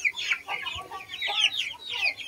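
Young pullet chickens in a pen cluck and chirp in a bright, busy chatter of repeated calls, close by and fairly clear, with no talking.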